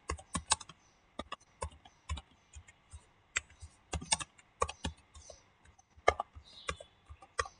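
Keys clack in irregular bursts as someone types on a computer keyboard, building a CV document in MS Word; close, crisp clicks with short pauses between runs, no talking.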